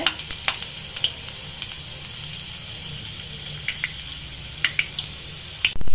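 Cumin seeds frying in oil over a low gas flame: a continuous close crackling sizzle with scattered sharp pops and ticks throughout, alone without talk.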